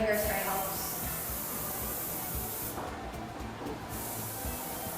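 Hairspray hisses onto an Irish dancing wig in a steady, fairly faint spray lasting several seconds, with a short break near the end.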